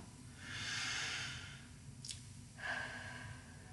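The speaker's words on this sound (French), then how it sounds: "Alors, prenons une profonde respiration." A single deep breath is taken during a calm spoken astrology forecast, a quiet airy inhale followed by a soft exhale, close and faint in an otherwise hushed room.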